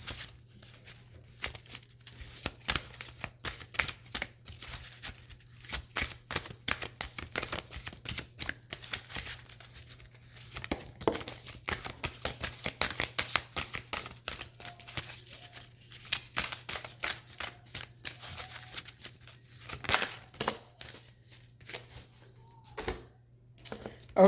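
Spirit Oracle cards being shuffled: a steady, close run of crisp, papery riffling and flicking that continues without pause for over twenty seconds, with no talking.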